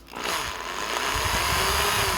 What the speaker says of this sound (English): You don't want to press the drill like really hard, just slightly like this.